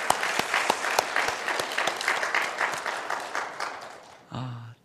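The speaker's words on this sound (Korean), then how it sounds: "우리 여전도의 우리 임원들, 회원들 모두에게 우리 격려의 박수 한번 드리실까요?" A church congregation at a Korean Sunday afternoon praise service applauds its women's mission members with brisk, close hand clapping that gradually thins out, followed by a brief voice at the very end.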